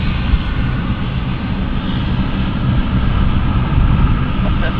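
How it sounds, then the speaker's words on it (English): An aircraft takes off at London City Airport, a loud, sustained engine roar with deep rumble holding steady throughout, no voices heard. "fast takeoff, it's gorgeous"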